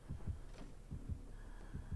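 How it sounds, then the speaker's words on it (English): A heartbeat warning pulses in the Dead by Daylight video game, a low, muffled, rhythmic double thump repeating about three times over two seconds, fairly quiet with a faint hum underneath and no talking. "I don't like the heartbeat."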